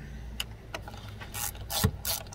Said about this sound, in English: grab our 10 millimeter and our ratchet